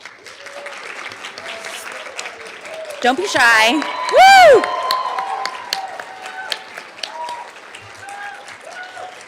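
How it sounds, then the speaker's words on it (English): Symposium audience applauding awardees at a university social work event, with a sustained round of clapping, cheers and a whoop rising in the middle, while voices speak over it. "if we could just have everybody stand and give you one final round of applause"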